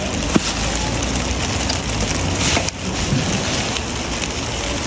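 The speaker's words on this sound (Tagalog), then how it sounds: "Nako, ang lakas ng ulan mga kamayora." Heavy rain pours down steadily in a dense, even broadband hiss across the whole stretch, loud and close, with no voices and a brief sharp tap near the start.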